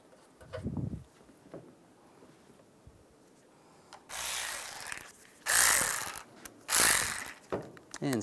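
Ratchet wrench cranking down headlight mounting bolts on a 2007-2013 Chevrolet Silverado, heard as a few bursts of fast clicking, close and loud, separated by quiet pauses with a soft knock near the start.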